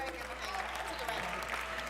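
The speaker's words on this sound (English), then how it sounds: "Give them all a big round of applause." Conference audience applauding, dense steady clapping from a crowd with voices mixed in, continuing for the whole short stretch.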